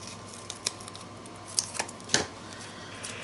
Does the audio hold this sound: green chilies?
no